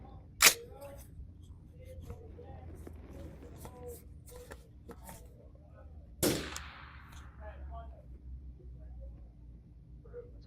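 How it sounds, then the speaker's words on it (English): A rifle fires at a target 525 yards away on a long-range training range: two sharp, loud reports stand well apart, with quieter handling noise and faint voices between them. "Now we're going to shoot a square at 525 yards with 3 rounds from each position."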